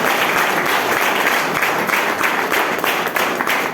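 Audience applause at a Vestige business-plan meeting in Hyderabad, Telangana: a dense, steady wash of many hands clapping, loud and close, running without a break for a few seconds.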